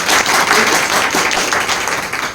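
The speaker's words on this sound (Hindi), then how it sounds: "एक बार ताली बनती है" An audience at a business meeting bursts into loud, close, continuous clapping that stays dense and even from start to finish before tapering slightly at the end.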